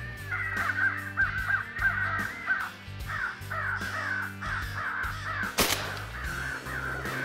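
Crows on a crow hunt give repeated hoarse caws in steady bursts, close and loud, and a sudden gunshot bursts out partway through before the cawing resumes.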